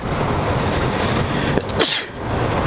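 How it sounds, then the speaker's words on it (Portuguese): A quick sneeze cuts through steady road and engine rumble, a brief sharp burst near the mic inside a moving vehicle. "Desculpa aí o espirro"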